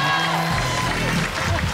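Game show studio audience clapping and cheering, a steady loud wash of crowd noise with music and a voice mixed in, filling the whole moment.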